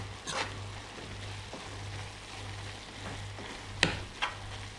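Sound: chard and squash filling cooking in a pan

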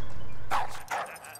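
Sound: dog barking in Call of Duty: Modern Warfare video game

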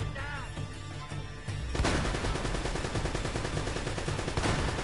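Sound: gunfire from shotgun enemy in video game Uncharted 1

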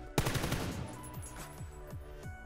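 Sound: gun spraying while leaning in the video game PUBG

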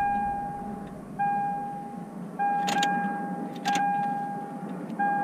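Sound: 2003 Lexus IS 300 key cycled to prime fuel pump

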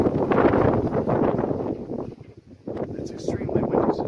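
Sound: strong wind outdoors near Las Vegas

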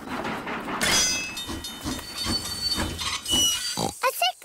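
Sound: cartoon train running on the track

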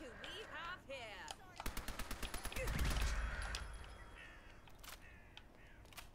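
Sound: gunshots in video game Fallout London mod

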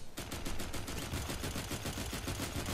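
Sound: sniper rifle shots in a video game (FireFall)

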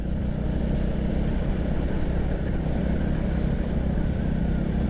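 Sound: Raider motorcycle riding

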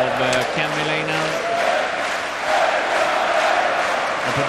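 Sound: hockey arena crowd cheering on home team

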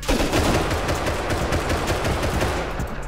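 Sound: gunfire in the video game Rust

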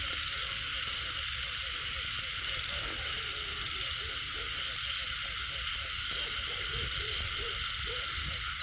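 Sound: frogs croaking loudly in rainy-season field

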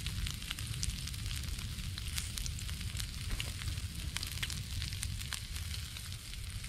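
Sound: eggs frying in rendered fat

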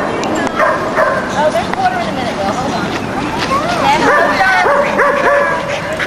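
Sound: dog barking in a dog park

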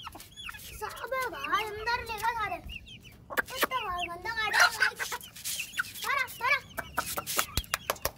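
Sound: chickens clucking while being fed

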